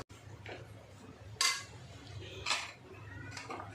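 A metal spoon scraping and clinking in a pan while methi (fenugreek) leaves are stirred with crushed peanut powder over low gas; a few sharp clinks stand out over a steady low hum, with no talk.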